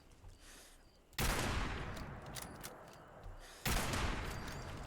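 Gunfire in the video game Fallout 76: two sudden, loud bursts of rapid shots, each cutting in abruptly and tailing off into a sustained roar, with faint game ambience between them.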